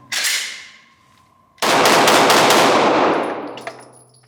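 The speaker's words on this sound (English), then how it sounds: "Let's do some rapid fire tests because it's a Glock." Rapid fire from a Glock 47 handgun: a short opening burst, then a fast string of sharp, loud reports blurring together with ringing reverberation that decays at the close.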